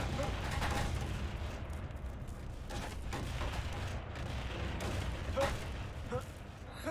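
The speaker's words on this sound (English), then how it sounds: "Oh, they're shooting at me." Gunfire in a video game as enemies shoot at the player near an airlock: dense, rapid bursts of shots over a steady rumbling backdrop, loud and continuous throughout.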